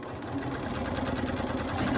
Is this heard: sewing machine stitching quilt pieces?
yes